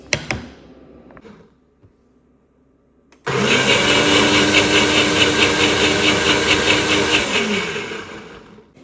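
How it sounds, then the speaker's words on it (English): An electric blender grinds garlic, ginger and half an onion into seasoning for Cameroonian okra soup. After a few soft handling clicks and a short pause, a loud, close, steady whir runs for about five seconds, then winds down at the end. "I blend or grind garlic, ginger, and half onion together"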